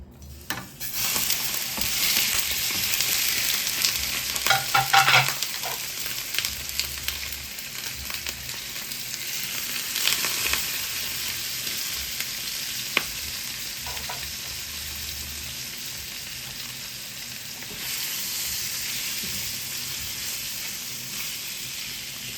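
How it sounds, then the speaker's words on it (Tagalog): Chicken pieces frying in hot cooking oil in a pan on medium heat, a loud continuous sizzle with occasional stirring bursts, steady and close throughout without talk. "Yan, naglagay lang tayo ng mantika sa kawali. Pag init, lalagay na natin yung chicken na."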